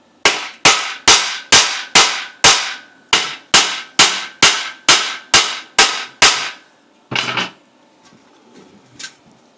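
Tack welding a Honda CX500 fuel tank, heard as a fast regular series of about fourteen sharp, loud cracks or zaps, then a brief louder burst and a quieter tail.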